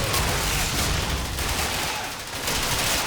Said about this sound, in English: use the enemy machine gun against the enemies